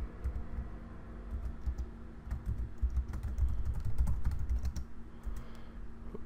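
Computer keyboard keys tapped in quick irregular bursts while a podcast title is entered, close and fairly quiet, over a soft steady hum, with brief pauses between runs of keystrokes.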